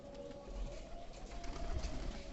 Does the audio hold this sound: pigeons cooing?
yes